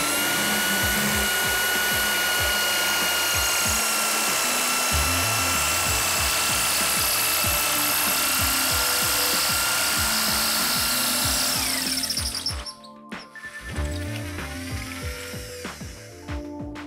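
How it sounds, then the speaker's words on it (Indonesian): A power drill with a masonry bit bores into a concrete wall in plain rotary mode without impact, making a loud continuous whine with a rough rhythmic grind. It stops briefly near the end, then restarts. "ini kita coba, barangkali kita melakukan tanpa impact, dia akan lebih lama untuk mengebornya."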